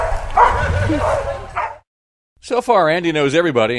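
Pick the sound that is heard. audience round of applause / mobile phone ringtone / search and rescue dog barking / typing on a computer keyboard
search and rescue dog barking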